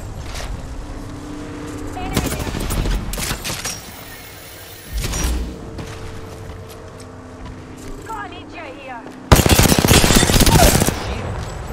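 Gunfire in the Apex Legends video game comes in rapid automatic bursts, including a long loud volley near the end, mixed with game effects while a player talks over the action.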